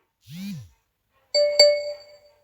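A message notification ding sounds once, a clear bright chime that rings and fades, preceded by a short rising-and-falling electronic blip in an otherwise quiet moment.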